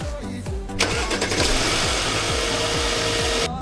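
An Audi car engine cranks with a rhythmic starter churn, then catches and settles into a steady close idle in a workshop, with a cleaning additive mixed 1:1 with petrol fed into the fuel system.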